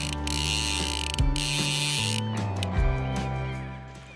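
The ratchet of a 3¾-inch click-and-pull fly reel buzzes as line is pulled off the spool, with loud bursts of rapid clicking broken by pauses and slower clicks, heard up close.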